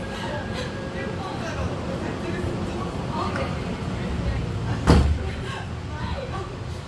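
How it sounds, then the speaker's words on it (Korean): Incheon Airport shuttle train doors slide shut with a single dull thud over a steady rumbling hum and faint background chatter. "Doors are closing."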